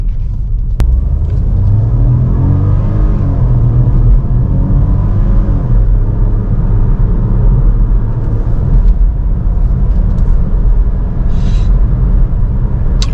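A 2024 Ford Puma ST-Line cruising on a highway gives a steady, loud cabin rumble of engine and road noise with a low drone throughout, no talking.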